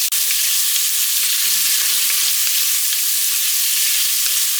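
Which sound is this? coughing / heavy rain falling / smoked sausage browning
smoked sausage browning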